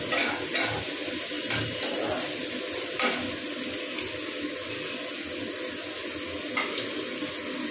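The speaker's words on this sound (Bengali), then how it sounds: "ফ্লেমটাকে লো করে না ভাজতে থাকবে, আর অল্প নুন দিয়ে দেবো যাতে পেঁয়াজটা একটু মজে যায়।" Sliced onions frying in a pan over a low flame with a pinch of salt, a steady soft sizzle with occasional scraping stirs and small clinks, close and continuous.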